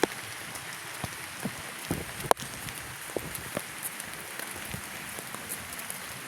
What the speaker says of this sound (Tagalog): Medyo umuulan-ulan ngayon mga doon.